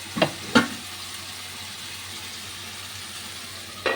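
Onion and tomatoes fry in a pan, a soft, steady sizzle hissing throughout, with two sharp utensil clicks near the start and another at the end.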